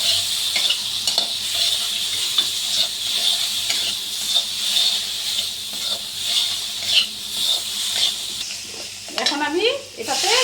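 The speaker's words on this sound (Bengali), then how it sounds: "এখন আমি ভালো করে একটু নেড়ে চেড়ে" Rohu fish curry spices stir-fried in a pan crackle and hiss steadily, with a spatula scraping and clinking against the metal throughout and a brief clatter near the end.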